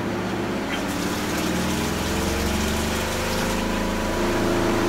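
A Costway washer and spin dryer runs with a steady low motor hum, and water from a hose gushes into the tub throughout, loud and continuous at close range.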